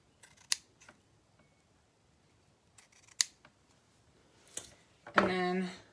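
Scissors snip ribbon in a few short, crisp cuts spaced apart, close and quiet, with a brief voice at the end.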